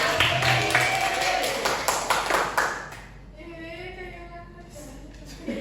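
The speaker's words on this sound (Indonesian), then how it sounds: "tepuk tangan untuk kita semua" A class of first-grade schoolchildren claps hands together in a classroom lesson, a brisk burst of clapping lasting about three seconds before fading out, with a voice talking afterward.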